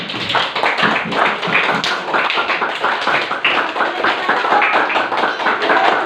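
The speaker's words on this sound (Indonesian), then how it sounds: "Nah, kasih tepuk tangan dulu." A group bursts into dense, steady applause, many hands clapping loudly and continuously for several seconds, with almost no talk over it.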